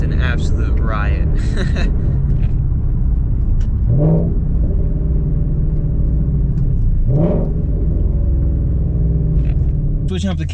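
A Ford Mustang engine rumbles loudly while driving, with a couple of sharp rev surges rising and falling over a steady deep drone, close up, with voices briefly at the start.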